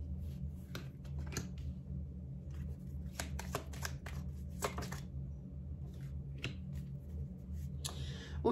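A deck of oracle cards is shuffled by hand in a quiet room, giving a steady run of close, crisp riffling and slapping taps for several seconds.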